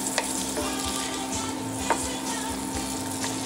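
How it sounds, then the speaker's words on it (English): Butter melting in a pot for a roux for cream of roasted potato soup, a soft steady sizzle with a few utensil scrapes and taps as it is stirred, close and without speech. "We're going to make a little roux."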